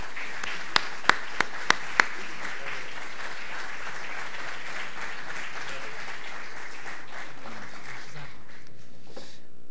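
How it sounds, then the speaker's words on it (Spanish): An audience at a football film festival talk bursts into applause, a few sharp close claps at the start, then a broad, steady wave of clapping that slowly fades out toward the end. "Un aplauso, por favor."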